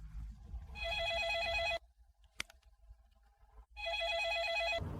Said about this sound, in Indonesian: Adrian, teleponmu terus berdering.